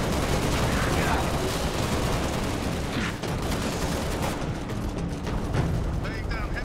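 Heavy sustained gunfire and explosions from combat in Halo Reach, the Long Night of Solace mission, a dense continuous barrage with bursts of shots and blasts. Radio voices talk faintly under the roar.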